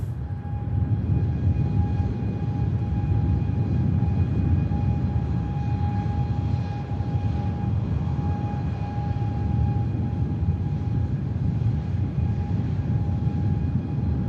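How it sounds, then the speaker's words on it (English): Ryanair airliner from Krakow landing at Manchester Airport, a steady broad engine roar with a faint whine holding close and loud throughout, no voices. "Next aircraft to land, Ryanair from Krakow."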